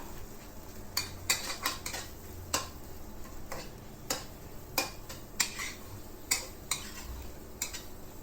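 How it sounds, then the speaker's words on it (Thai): Eggs with seasoning stirred in a bowl with a utensil, producing a series of sharp, irregular clinks and taps against the bowl, about a dozen, over a low background hiss. "แล้วก็คนเลยพี่น้อง คนให้ไข่ก็เครื่องปรุงเข้ากันค่ะ"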